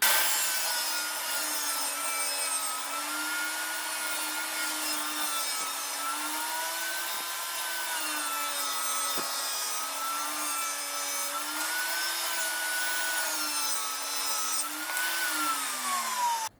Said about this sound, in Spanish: vamos a recortar apenas un poquito para que quede completamente al ras